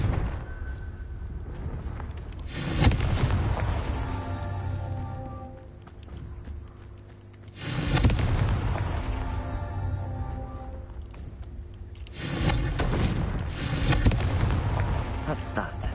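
Confringo spell blasts in Hogwarts Legacy go off as three heavy booming bursts several seconds apart, each with a crackling tail, over game music, with a voice talking between them.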